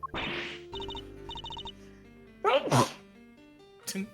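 Soft musical tones play, then one loud, sharp sneeze bursts out close by, followed moments later by a brief smaller burst.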